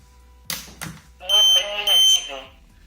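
A Dragonlink 433 MHz V3 Slim radio transmitter switching on, a few short clicks followed by a loud, close two-part electronic beep tone.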